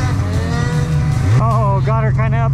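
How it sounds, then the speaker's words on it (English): A snowmobile engine runs close by, droning and then revving up in pitch as it pushes through snow, with a voice talking over it. "snowmobile."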